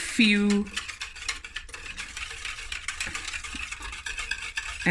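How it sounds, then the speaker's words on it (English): A whisk stirs lasagna sauce in a pot in a steady, soft scraping and tapping patter throughout, after a brief tonal sound at the start. "every 2 minutes I'm going to stir with my whisk until it's nice and thick"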